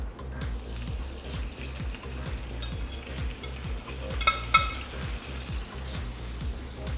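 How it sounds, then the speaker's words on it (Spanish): Salmon loin and onions searing on a hot griddle, a steady, even sizzle with a low rhythmic rumble beneath and a couple of brief clicks near the end. "Vamos ahora a tirarlo a la plancha. Lo vamos a ir dorando."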